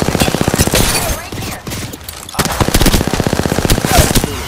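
Loud automatic gunfire in Apex Legends on Storm Point, rapid evenly spaced bursts of shots close up, pausing briefly midway before another sustained burst resumes.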